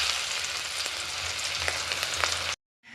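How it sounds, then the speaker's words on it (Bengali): Pangas fish pieces fry in hot oil in a wok, giving a loud, steady, crackling sizzle throughout that cuts off abruptly near the end, with no voices. "তেলটা গরম হয়ে গেছে মাছগুলোকে এবার তেলের মধ্যে ছেড়ে দেবো"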